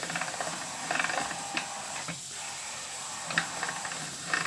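Dough for rzizza being fed through a pasta machine, giving a soft mechanical whir with intermittent clicks and light ratcheting taps at close range, no speech over it.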